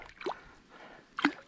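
Water from an overflowing pool drips and splashes nearby in two brief bursts, faint and irregular, with quiet gurgling between.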